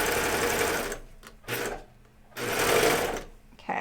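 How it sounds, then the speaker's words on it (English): A sewing machine stitching Hudson pants runs in two loud, close bursts of steady needle clatter, each roughly a second long, with a short pause between them and a brief restart at the end. "once I get the needle in there and it kind of sewing, then I kind of position it and go"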